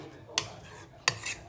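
A spoon stirs a yogurt gravy in a pot, two sharp metal clinks of spoon against the pot rim over a faint background, close and quiet with no talk.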